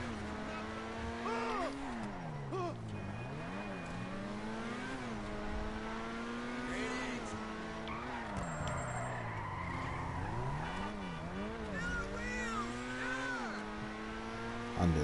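A red Mitsubishi Eclipse with a pop-up spoiler drives hard and skids, its engine rising and falling in repeated revving sweeps over steady tire noise, loud and continuous throughout.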